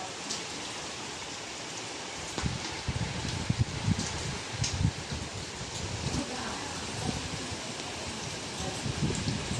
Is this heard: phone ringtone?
no